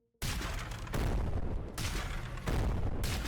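Heavy launcher blasts from the Leviathan Launcher's alt fire in Dead Frontier, a series of loud booming discharges roughly every three-quarters of a second, each with a rumbling tail that runs into the next.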